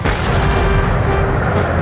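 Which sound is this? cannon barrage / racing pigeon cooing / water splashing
cannon barrage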